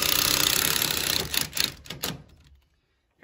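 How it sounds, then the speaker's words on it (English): A screw is driven into the bottom of a pre-hung door jamb, a loud close whirring drive that stutters into a few short bursts and then stops to silence. "And I'm gonna put a screw in the bottom."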